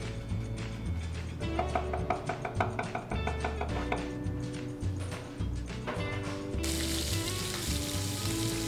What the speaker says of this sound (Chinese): 热锅加入底油，将牛仔粒依次摆入平底锅中，大概1分钟左右翻一次面。